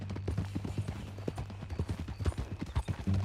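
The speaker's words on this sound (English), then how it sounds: "That a new horse?" Horse hooves clip-clopping in Red Dead Redemption 2 as a rider arrives at a ranch, a steady close rhythm of hoofbeats with a low hum beneath and occasional faint voices.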